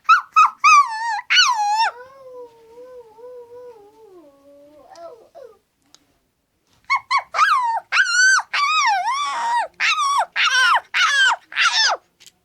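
A dog whimpers and whines in high, wavering cries, with a long low moan, a pause, then a rapid run of yelps and whines close by.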